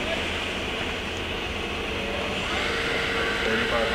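Hardinge Bridgeport CNC vertical machining center with an 8,000 RPM spindle starting up at 1,500 RPM: a steady, dense mechanical whir and hum with broad noise, close and constant, rising slightly in intensity toward the end.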